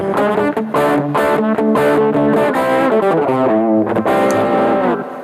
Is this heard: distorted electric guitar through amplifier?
yes